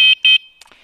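An older electronic scooter bell gives two short, shrill beeps in quick succession, close and loud, followed by faint clicks.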